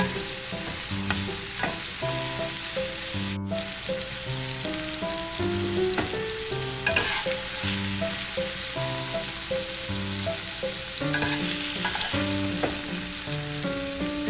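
Beef fries with garlic and onion for a Filipino beef mechado, a constant close sizzle with occasional stirring clatter, partly under background music carrying a melodic line throughout.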